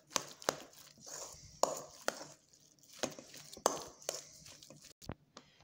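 Twice baked potato filling with mayo is stirred in a bowl, with a series of crisp, irregular knocks and taps of the spoon against the bowl and soft mashing sounds in between, close and fairly quiet.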